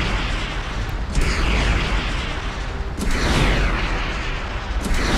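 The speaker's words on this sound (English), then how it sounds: "Launch the missiles." Missiles launching and exploding in the space game Starcom: Unknown Space, a sustained loud rumbling barrage with heavier booming bursts near the start, middle and end; no one speaks.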